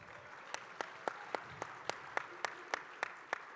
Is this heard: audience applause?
yes